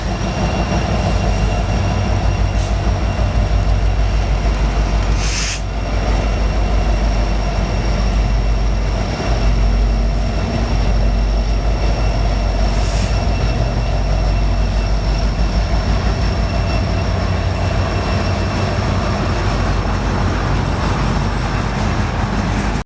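A train on the CN main line rumbles past close by for a long stretch, a steady heavy roar of wheels and cars with occasional squeals and clanks.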